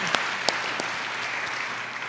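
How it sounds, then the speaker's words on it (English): Applause from a convocation audience on a cold day, a steady dense wash of clapping throughout, with a few sharper individual claps standing out near the start. "give yourselves all a round of applause for coming out today and being cold."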